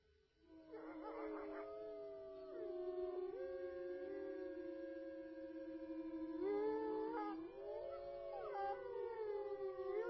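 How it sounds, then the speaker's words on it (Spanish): A wolf gives long, mournful, gliding howls, with other voices from the pack layering and overlapping in a chorus. The howls are clear and tonal over quiet background. "El aullido del lobo."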